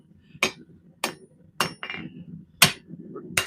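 In a home blacksmith shop, a hammer forges metal in five or six sharp, ringing strikes spaced about half a second to a second apart, each a bright clang on the workpiece with quieter tapping between them.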